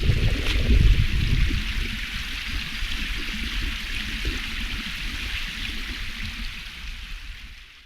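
A small creek flowing over rocks, a steady close wash of rushing, gurgling water that holds throughout with a slight fade near the end, no voices.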